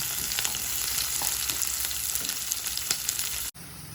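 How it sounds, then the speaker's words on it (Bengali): Garlic, ginger and two green chillies with onion fry in a pan for an egg curry, giving a steady, loud, close sizzle that drops out for an instant near the end and then resumes. "রসুন দিলাম, আদা দিলাম, কাঁচা লঙ্কা দিলাম দুটো। কিছুক্ষণের জন্য এটাকে আমরা একটু ভেজে নেব।"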